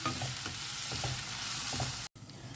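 Tomatoes sizzle in a pan for kingfish curry while a spoon stirs them, making a steady, close frying hiss with soft scraping strokes that cuts out briefly near the end.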